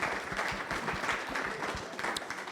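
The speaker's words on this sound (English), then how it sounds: "A round of applause for Fakii, ladies and gentlemen" Audience at a film business panel applauding a speaker, brisk continuous clapping from a crowd filling the room at a steady level.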